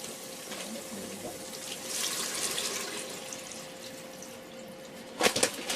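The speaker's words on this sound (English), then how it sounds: "I'm now going to add in the water for my 3 beans." Water is poured into a pot of fried onions and tomatoes to cook beans on an electric cooker run from a solar battery power hub. A soft, steady splashing flow runs throughout, ending in a few sharper splashes and clinks.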